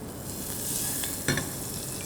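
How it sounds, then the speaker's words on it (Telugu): Butter melting in a heated pan gives a steady, soft sizzle with light crackle, with a brief louder spatter about halfway through, all close and continuous with no voices. "గిన్నె వేడెక్కాక ఇందులో కొంచెం బటర్ వేస్తున్నాను లైట్గా"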